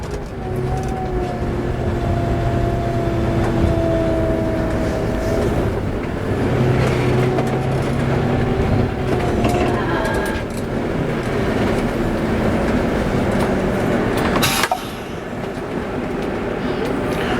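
Bus fitted with wide air suspension driving on a test run in rainy weather, giving a steady interior rumble of road and engine noise with tonal whines rising and falling, and people talking over it.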